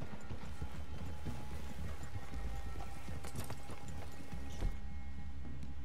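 Horses in Red Dead Redemption II clip-clop steadily along a trail, hooves moderately close and continuous beneath a low outdoor ambience, with no talk over them.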